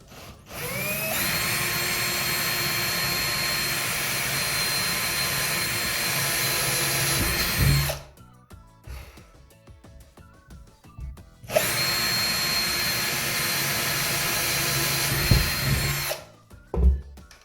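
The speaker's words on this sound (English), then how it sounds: "So, all right, drill a hole." A loud power drill whines steadily for several seconds while drilling a hole into a wall, stops briefly with some rattling, then drills again in a second long burst.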